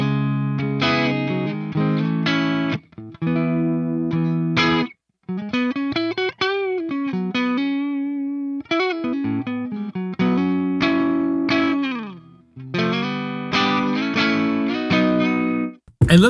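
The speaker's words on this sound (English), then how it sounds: "let's try the overdrive" Overdriven electric guitar through the STL Tones AmpHub plugin plays a loud, gritty melodic riff of sustained chords and bent single notes in bursts separated by short pauses.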